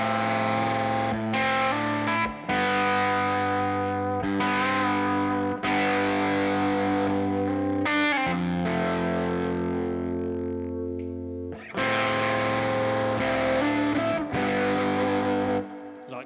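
An electric guitar played through distortion and effects traces a vocal melody in sustained, overdriven notes and chords. It is thick and continuous, with brief breaks between phrases, and no voice is heard.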